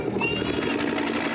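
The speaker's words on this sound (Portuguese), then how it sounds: "Policiais também estão no helicóptero, prontos para atirar se for preciso." A police helicopter flies overhead during an armed operation, its rotor making a steady, loud, rhythmic thrum with no pauses, and faint talk mixed underneath.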